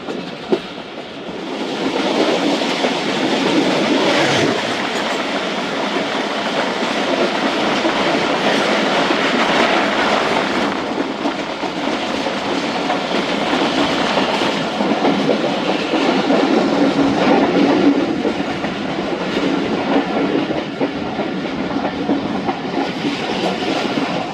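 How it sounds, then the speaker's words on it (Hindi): Karachi Express passenger train running steadily on its rails on approach to a station, a continuous close rumble of wheels and carriages with clickety-clack rhythm throughout, loud and sustained without talk. "किसान रेलवे स्टेशन पहुंच रही है हमारी ट्रेन"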